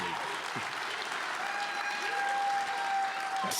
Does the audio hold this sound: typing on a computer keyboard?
no